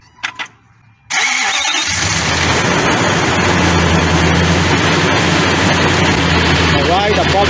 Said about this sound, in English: we're ready to turn on or to crank the engine